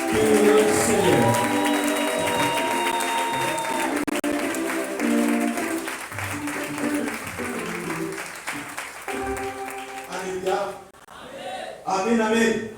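A church congregation at a special closing ceremony applauds and cheers for the Lord, loud sustained clapping mixed with shouts and singing voices, fading briefly near the end before rising again.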